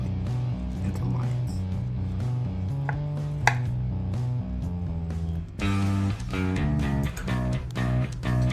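A knife cuts raw fish into strips for Peruvian ceviche, giving a series of light, quick taps on a board under prominent background music.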